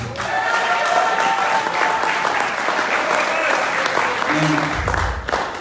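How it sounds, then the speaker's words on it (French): Crowd at an activist rally in Washington DC applauding themselves, sustained, full clapping close by that fades slightly before a brief low rumble at the end. "Applaudissez pour vous-même."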